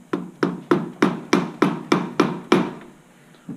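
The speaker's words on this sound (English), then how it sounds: "we're just going to use a 12mm socket to tap him lightly into place." Eight sharp metallic taps in an even rhythm as a 12mm socket drives a small shift drum seal into a BMW 6-speed transmission case, each knock close and ringing briefly, then quiet.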